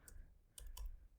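Several quick keystrokes on a computer keyboard while writing C code, a few soft clicks spread across a short, quiet stretch with no talk.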